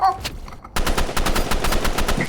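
Automatic gunfire in a multiplayer shooter video game during a ranked match: a short burst, a brief pause, then a longer string of rapid, loud shots.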